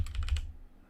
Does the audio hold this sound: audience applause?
no